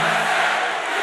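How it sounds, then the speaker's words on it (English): A large crowd roars and cheers steadily at a Donald Trump rally in Iowa, a loud, dense wall of voices with no break through the moment. "An adoring crowd greets the president like a hero returns"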